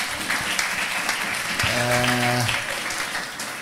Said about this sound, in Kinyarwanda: Mumfashe dukomere imana amashyi menshi